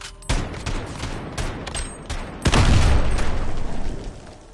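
Loud gunfire in Modern Warfare multiplayer, a sharp crack followed by a heavier blast and a rolling echo, set against game noise with no voices.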